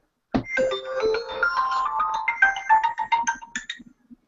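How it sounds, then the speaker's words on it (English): A mobile phone ringtone plays a bright melodic tune for about four seconds, loud and close, with no talking over it. "Yeah, that was my ringtone."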